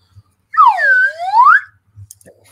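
A slide whistle serving as a contestant's trivia buzzer gives one loud, close glide that sweeps up, dips down and rises again for about a second, with faint knocks and handling noise after it.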